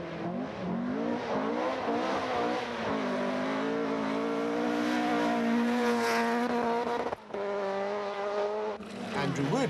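An Opel Kadett 400 rally car on a Scottish rally stage, its engine droning loud and steady with rising and falling revs throughout, briefly cut near the end before roaring on.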